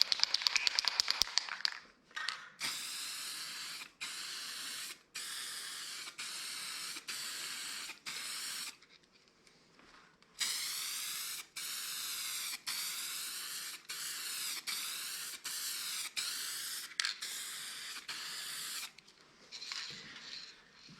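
Gold pearl spray paint from an aerosol can sprayed over a black-painted sign, a steady loud hiss in repeated bursts of one to two seconds separated by short pauses.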